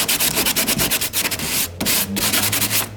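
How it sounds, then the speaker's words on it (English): Sandpaper scrubs a fiberglass bumper by hand, loud close rasping strokes in a quick back-and-forth rhythm with brief pauses, and no talking. "just have some sandpaper and get everything off at once"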